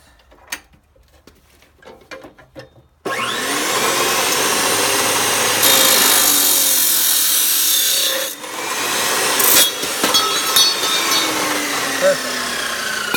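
A 14-inch Maximum chopsaw slices through metal fence tubing: the motor spins up after a few quiet seconds, then a loud, continuous abrasive grinding roar holds for about ten seconds with brief dips as the blade bites.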